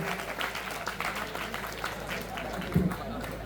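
A school audience at SMA Mojoagung Jombang claps for the students during a Maulid Nabi religious talk, with brief, moderately loud applause heard as a short burst of hand claps.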